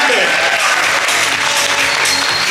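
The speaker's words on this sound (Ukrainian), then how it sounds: "Денис Галанзовський, ваші аплодисменти!" A forum audience applauds a blogger in a loud, dense burst of clapping that fills the space from start to finish.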